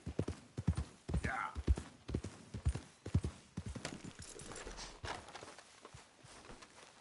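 Rhythmic hoof clip-clops of a horse walking in the video game Red Dead Redemption 2, steady and fairly close, with a voice talking over them for much of the time.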